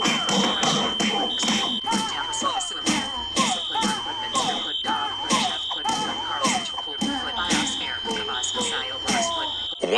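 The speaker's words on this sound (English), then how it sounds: "I heard the fire alarm going off." A fire alarm sounds at a Chuck E. Cheese's, a steady high electronic tone broken by rapid repeating pulses, loud and continuous throughout, with overlapping voices and other noise underneath.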